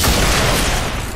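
Loud, dense blast from an explosion in the video game XCOM: Chimera Squad, a continuous roaring rumble that fills the whole moment and tapers slightly toward the end, with no voices over it.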